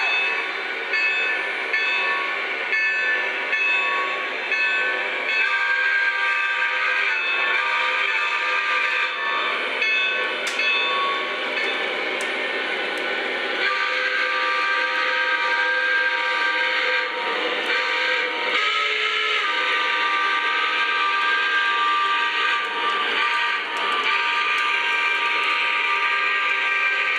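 A Lionel Legacy unpainted pilot S2 Pennsylvania Railroad steam turbine model train rolls along with a steady mechanical hum, layered with sustained whistle tones that shift in pitch partway through.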